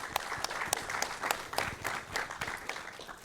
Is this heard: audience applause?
yes